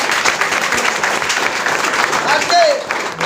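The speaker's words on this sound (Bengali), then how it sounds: "একটা জোরদার হাততালি নিজেদের জন্য দিন।" A seated audience breaks into hearty applause for themselves, dense and loud continuous clapping from many hands that fills the space without letting up, with crowd voices faintly mixed in.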